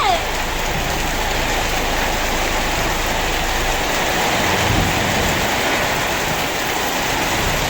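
The season's first heavy rain pours steadily, a dense, unbroken hiss of water splashing on surfaces and spraying indoors, loud and close throughout.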